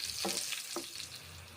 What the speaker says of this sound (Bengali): এইভাবে পটলগুলো আমি ভেজে নিচ্ছি, সর্ষের তেল